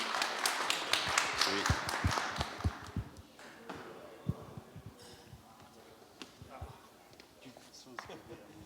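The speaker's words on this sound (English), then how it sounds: "a quick round of applause for our panelists" A conference audience applauds the panelists, with a short burst of claps and taps that fades after a few seconds as a voice begins speaking.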